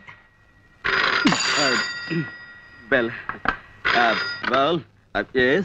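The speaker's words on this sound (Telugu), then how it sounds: "వెళ్ళి ఆ గదిలో ఫోన్ తీసుకో." A telephone rings with steady electronic tones while people talk over and around it.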